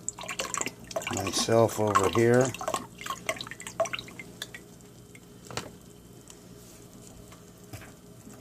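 Soy sauce pours and drips into a measuring cup in a home kitchen while a slow-cooker meal is prepped, giving soft liquid patter after a burst of nearby speech, with quieter drips continuing alone.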